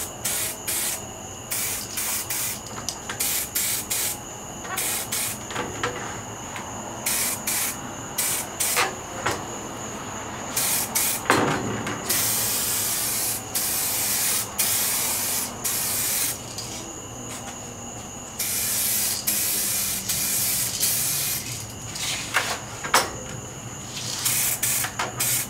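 A spray paint can lays down a flash coat, guitar-body edges first, in many short hissing bursts, some quick and others drawn out over a few seconds. The spray is close and fairly loud, with brief gaps between passes.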